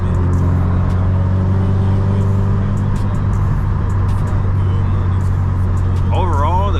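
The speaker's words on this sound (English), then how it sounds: "so you guys can really hear all the sounds and fun noises that the car makes" Stage 3 Subaru WRX STI driving on back roads, its loud exhaust drone and engine hum steady and close throughout, with turbo whine rising near the end.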